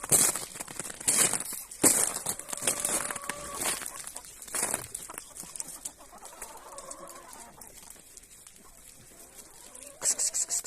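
Farmyard chickens cluck in short, irregular bursts close by at a rural village home, with quieter stretches between calls and a few sharper bursts near the end.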